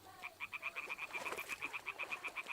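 Frogs croaking in Kingdom Come: Deliverance 2, a rapid, regular chorus of pulsing croaks close by, continuous and alone without any talk.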